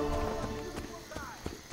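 Horse hooves clip-clop in the video game Assassin's Creed Brotherhood, a quick run of fairly faint, evenly spaced thuds under a voice and game background sounds.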